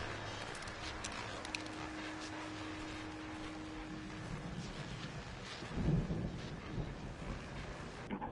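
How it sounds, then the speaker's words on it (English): Thunder and rain from a thunderstorm in Alan Wake Remastered: a constant hiss of rain and wind under a low, distant rumble, swelling into a heavier thunder roll about two-thirds through. "that storm we all felt coming is finally here"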